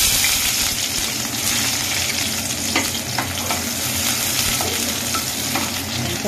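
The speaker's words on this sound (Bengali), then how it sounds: "তেলটা এবার গরম হয়ে গেছে, এখানে দিয়ে দেবো পেঁয়াজ কুচি" Chopped onion dropped into hot oil for a spicy Bhola fish curry, giving a loud, steady, dense sizzle throughout with a few light stirring clicks and no talking.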